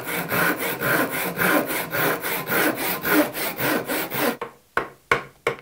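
A Japanese pull saw cuts into a wooden electric guitar body with steady, rhythmic rasping strokes, close and loud, then slows to a few separate final pulls.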